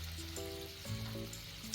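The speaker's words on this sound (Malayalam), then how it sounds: "എന്നിട്ട് നമ്മളത് ഫ്രൈ ചെയ്യാനായിട്ട് ഇടണം." Banana slices frying in hot oil give a steady, close sizzle that crackles continuously throughout, with some faint tonal sounds in the background.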